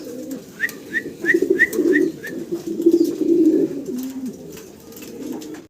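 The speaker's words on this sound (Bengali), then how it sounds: "ফ্যান্টেল কবুতর, সাদা ফ্যান্টেল একটা জোড়া আছে।" White fantail pigeons coo in low, throaty rolling bursts, close and fairly loud. A few sharp chirps repeat above them, and the cooing fades toward the end.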